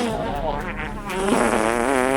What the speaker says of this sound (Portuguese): Forcei a barriga e soltei um peido.